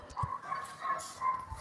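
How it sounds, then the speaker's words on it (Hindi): A dog barks a few times from outside, somewhat distant and muffled, short yelping barks spaced irregularly over a quiet background. "बाहर से एक डॉग के भौंकने की आवाज़ें आना शुरू हो गई हैं।"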